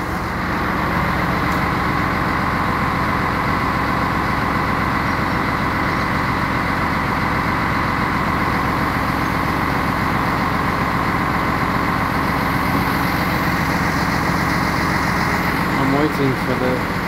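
A large bus idles at a French-Swiss rail station near Pontarlier, a steady low engine rumble running throughout at close range with a slight rise near the end.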